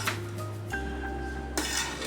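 A metal spoon scrapes and clinks against a pot while stirring a rice and lentil dish, with a few sharp metallic knocks and a lingering ring between strokes, close and clear with no talking.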